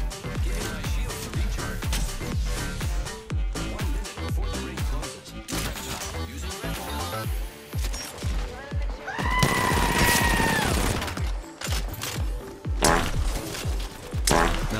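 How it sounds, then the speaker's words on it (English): RE-45 automatic pistol fire in Apex Legends, rapid snappy shots in quick bursts during close combat, with game effects and action sounds around them. "I don't normally use the RE-45, so you just pardon my shots"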